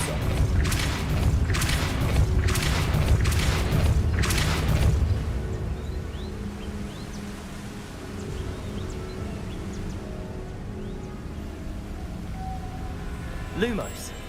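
A series of loud, rhythmic force-spell impacts from the Depulso charm in Hogwarts Legacy, booming for about five seconds and then giving way to quieter ambient game sounds and a faint sweep near the end.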